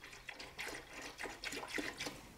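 Water is poured into a coolant tank to top it up, an uneven gurgling, splashing flow that comes in surges and stays fairly quiet and close.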